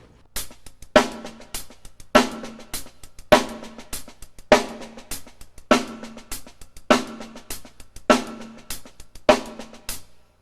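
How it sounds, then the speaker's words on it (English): Sixteenth-note paradiddles on a drum with every quarter note accented: a repeating pattern of loud strokes each followed by three softer taps, close and clear with no talking. "I'm going to accent all the quarter notes"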